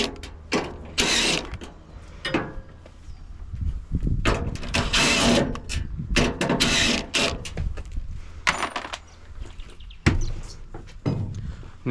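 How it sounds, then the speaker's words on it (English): Screws are removed from a washing machine being scrapped, with rapid ratcheting bursts from a driver, metallic clicks and creaks coming close in irregular spurts separated by short pauses. "we're going to take out some more screws and take out the front"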